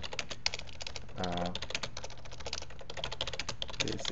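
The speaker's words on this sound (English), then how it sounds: "my typing sucks today" Steady, rapid typing on a computer keyboard, with continuous clicking keystrokes close to the listener and a brief murmured voice under the typing.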